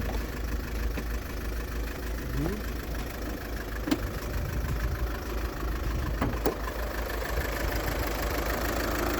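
A cold car engine idles steadily at close range, a low continuous rumble with a few faint clicks and knocks.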